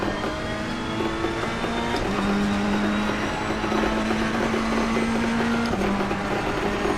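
A race car engine in the Assetto Corsa Competizione video game, driven fast, gives a loud, steady drone that holds a rising and shifting whine as the revs climb and change across several seconds.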